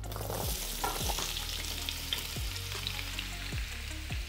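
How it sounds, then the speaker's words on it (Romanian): Apples sizzling and frying in hot melted fat in a pan for a sugar-free apple strudel filling, with a steady loud crackle and occasional stirring scrapes, close up and without talk. "După ce uleiul s-a topit, putem să adăugăm merele cu totul."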